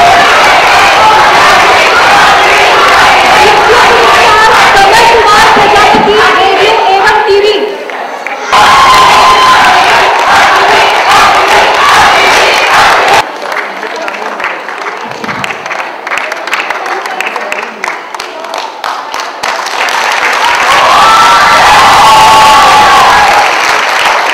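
At an IIMC Hindi Pakhwada 2013 prize ceremony, an audience breaks into loud applause with cheering and whoops. The clapping dips briefly a couple of times, then swells again near the end.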